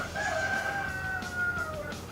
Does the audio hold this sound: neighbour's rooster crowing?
yes